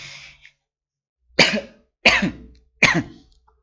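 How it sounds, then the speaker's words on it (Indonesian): Three sharp coughs in a row, evenly spaced and close to the mic, after a brief trailing breath at the start; no talking. "batuk sebentar"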